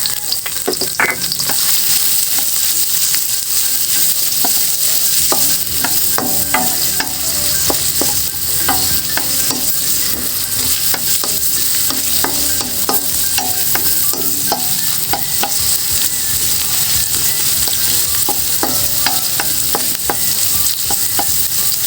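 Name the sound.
sautéing garlic and onion in a pan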